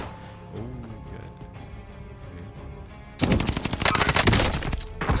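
Rapid automatic gunfire from a weapon in Call of Duty: Warzone erupts loudly midway, a dense burst of shots following quieter game ambience.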